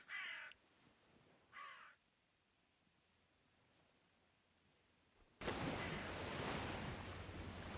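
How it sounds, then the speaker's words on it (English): Crows in the plague-ravaged medieval Nested Lands video game give two distinct caws, faint and spaced apart, before a loud rush of wind and surf takes over. "it is a plague game, so yeah, there's going to be crows, aren't there?"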